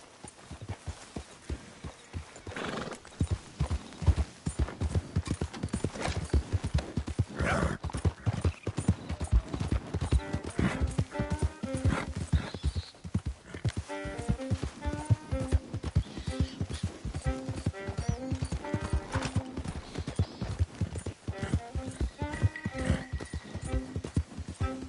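A horse in Red Dead Redemption 2 clip-clops along at a steady walk, close and rhythmic, with the animal neighing and whinnying midway through the sequence.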